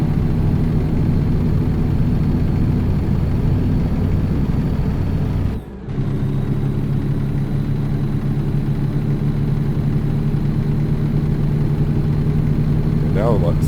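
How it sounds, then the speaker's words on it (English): Heavy truck engine in American Truck Simulator, climbing a grade in high gear, drones steadily and loudly throughout with a brief dropout near the middle, while a voice talks over it. "So now that engine sounds like it's getting up there."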